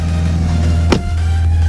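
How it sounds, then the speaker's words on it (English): A BMW drift car with a loud aftermarket exhaust idles close by in a steady, deep rumble, with one brief sharp click or blip near the middle and no talking. "It's super loud because of the exhaust."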